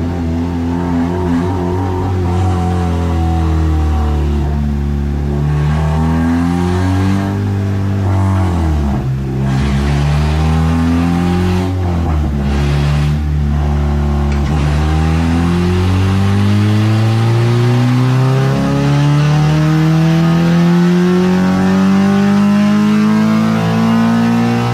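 A Honda K24Z7 four-cylinder in an Ariel Atom revs hard on a dyno during a pull, loud and close, its tone dipping and climbing through gear-like steps and then sweeping steadily upward in one long continuous rise.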